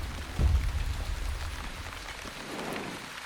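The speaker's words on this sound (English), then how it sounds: "Raining." Steady rain pattering on surfaces in The Wandering Village video game, a continuous soft hiss with a brief low thump near the start.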